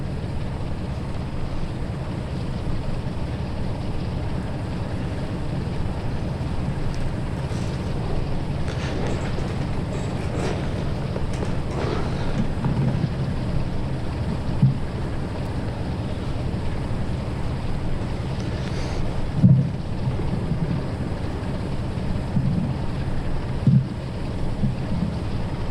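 BR Class 47 diesel locomotive running in Train Sim World 2, a steady low droning rumble with continuous rushing noise and occasional soft thumps and clanks, no talking.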